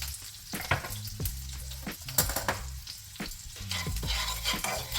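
Garlic, parsley and chili frying in a pan for lemon garlic pasta, with steady sizzling broken by repeated stirring scrapes and clinks, close and moderately loud with no talking.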